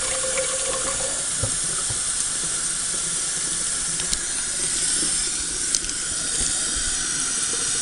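Water runs steadily from a tap into rice in an Aroma rice cooker pot, a continuous close rushing hiss with no talk over it.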